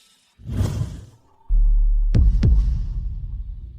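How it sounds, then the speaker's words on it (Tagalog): A heartbeat sound effect delivers a quick double thump over a deep, sustained low drone, preceded by a soft whoosh. "Bakit ang bilis ng tibok ng puso ko?"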